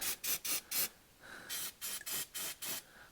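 Brake cleaner sprayed in short hissing bursts onto the drain area of a 2.0 TDI Audi A4 Quattro engine during an oil change, about nine quick aerosol blasts in two groups, close and without talk.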